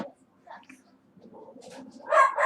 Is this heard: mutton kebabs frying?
no